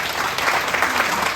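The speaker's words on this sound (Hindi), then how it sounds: "मेरी ओर से आप अपने लिए एक जोरदार तालियां बजाइए दोस्तों" Audience applause at a Hindi workshop in a government directorate office, a brief burst of many hands clapping, steady and moderately loud, with no voices over it.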